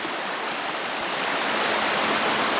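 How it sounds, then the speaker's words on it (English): A mountain river in Georgia rushes loudly and steadily, a close, dense wash of flowing water with no voices. "And I've come across this river."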